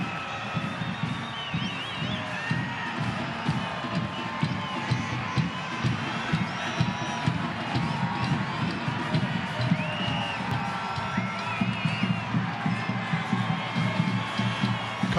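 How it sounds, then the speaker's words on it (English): A stadium crowd at an El Paso Locomotive FC versus New Mexico United soccer match cheers and shouts continuously, with scattered whoops and whistles rising over a dense, far-spread roar. "Kostishin trying to fire up the crowd."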